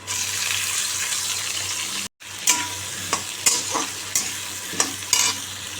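Onion tossed into a hot pan sizzles loudly, then after a short break a utensil scrapes and clinks repeatedly as it is stirred over the steady frying hiss.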